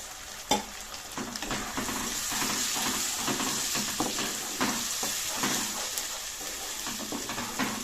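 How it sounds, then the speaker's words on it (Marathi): Spice paste for vajri suka, a Marathi goat-tripe dish, sizzles and fries steadily in hot oil, with scattered spoon scrapes and clinks against the pan throughout and no talking. "तर बघा याला पण परतून घ्यायचं छान"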